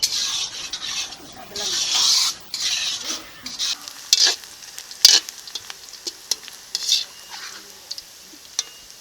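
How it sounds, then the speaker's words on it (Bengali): Onions fry slowly over low heat into crispy birista for chicken dum biryani, giving a steady close sizzle broken by repeated scraping stirs, with no talking. "বেরেস্তা ভাজার সময় স্লো করে ভাজলে বেরেস্তাটা ভালো হয়"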